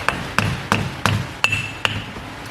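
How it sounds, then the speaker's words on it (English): A hammer taps a part off a GTR front differential, six sharp metallic strikes in an even, slightly slowing rhythm, close and clear with no talk. "Then you just kind of take your hammer and"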